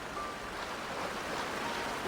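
Rushing waterfall in front of a cavern in the Genshin Impact video game, a dense steady roar of falling water filling the whole clip with no talk.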